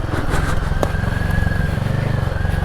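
Royal Enfield Himalayan 452 motorcycle engine thrums steadily and close at a constant pace while riding, a low pulsing exhaust note with faint wind rush and no talking.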